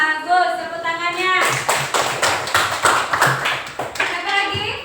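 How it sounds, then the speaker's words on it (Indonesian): A class of children applauds with their hands, a burst of rhythmic, fairly loud clapping that starts abruptly and fades toward the end, with a voice briefly heard before it begins. "Bagus, tepuk tangannya."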